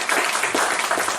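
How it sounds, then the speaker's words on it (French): Audience applauding trophy winners at a cup presentation ceremony, a brief dense patter of clapping that stays steady and fairly loud throughout. "Bravo, on les applaudit."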